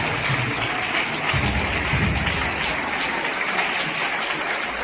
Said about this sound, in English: Let's welcome our today's students with a big round of applause.